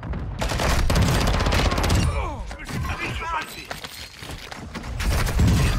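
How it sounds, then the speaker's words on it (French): Loud bursts of gunfire from the video game Warzone rattle around the player, with clattering shots and mechanical clicks, while a voice talks over the action. "Ça me tire derrière moi."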